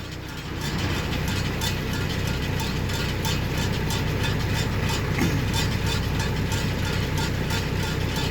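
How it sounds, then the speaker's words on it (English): A New Holland 1030 Stackliner tractor engine idles with a steady low rumble, a constant mechanical drone with no talking. "Now the tractor is just at an idle right now,"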